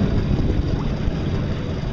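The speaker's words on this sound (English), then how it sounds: "You can hear the motor right now. It's on the lowest battery setting with the solar panels." An electric boat motor runs on solar panel power at its lowest setting, giving a steady low rumble with water wash mixed in. The sound stays close and even throughout.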